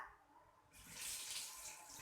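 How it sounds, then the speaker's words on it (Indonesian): Water from a tap, turned on for handwashing, starts as a faint trickle and swells into a steady, loud hissing stream. "Nah, kemudian kita nyalakan keran."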